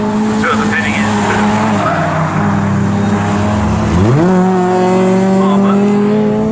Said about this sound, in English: the BMW running low revs, whereas the Jaguar being revved quite well